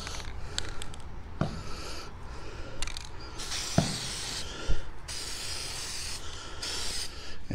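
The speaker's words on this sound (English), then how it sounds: "Now I'm going to start with spraying the insides," Bursts of aerosol spray paint hiss from a can onto the insides of metal mounting brackets for a minivan roof solar panel, set on a table, several separate sprays with short pauses and a few knocks between them.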